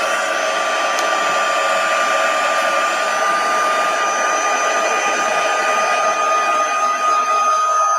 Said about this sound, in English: I am going to hit this with the heat gun just so then we can keep going with this card